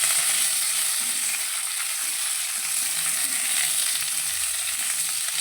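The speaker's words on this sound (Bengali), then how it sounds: "ক্যাপসিকাম আর পেঁয়াজটাকে দিয়ে আমরা একটু হালকা করে ভেজে নিই" Cubed capsicum and onion fry in a kadai with a constant bright sizzle and faint stirring underneath, close and even throughout.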